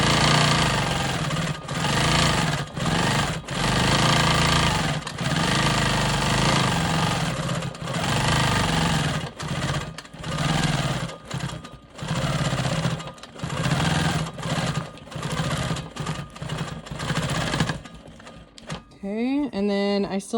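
A sewing machine stitches free-motion quilting swirls on a quilt block behind the presser foot, a steady loud mechanical whir running in bursts with brief pauses and speed changes throughout.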